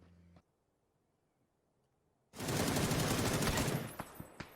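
Gunfire in a PUBG esports match: after a brief quiet pause, a loud, dense fusillade of rapid automatic shots erupts and continues steadily for about two seconds, ending with a few separate sharp reports.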